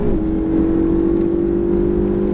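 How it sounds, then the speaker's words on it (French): A Ferrari 488 GTB engine roars at full throttle on a racing circuit, its steady high-pitched drone sustained and close throughout. "Gaz à fond maintenant."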